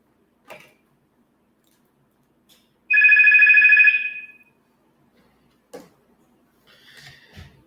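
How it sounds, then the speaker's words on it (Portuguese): A telephone rings once with a bright electronic tone lasting about a second, loud and clear against near silence, with a few soft knocks and creaks before and after. "o telefone tocou, não tem jeito."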